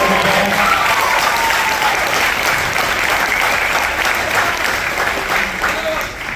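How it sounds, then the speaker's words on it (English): Loud, sustained applause from a school concert audience for a high school jazz band, dense clapping with crowd voices mixed in, easing slightly at the end. "Can we give them one more round of applause?"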